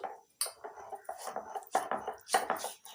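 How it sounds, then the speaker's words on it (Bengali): Mung dal and green chillies are ground on a stone shil-nora slab, giving irregular close scraping and knocking strokes of stone on stone, with short bursts and pauses in between and no talking. "মুগ ডালের সঙ্গে নিয়ে নিচ্ছি 3টে কাঁচা লঙ্কা। আপনারা যে যেমন ঝাল খেতে পছন্দ করেন সেরকম লঙ্কা নিয়ে নেবেন। শিলনোড়ায় বেটে নিচ্ছি"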